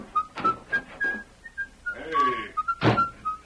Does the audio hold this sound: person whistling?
yes